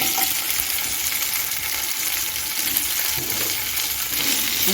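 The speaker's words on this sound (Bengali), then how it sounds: "এখন আমি বাদাম ভাজা তেলে আলুটা ভেজে নেব" Diced potatoes fry in oil previously used for frying peanuts, giving a steady, dense sizzle that runs close and loud throughout with no speech over it.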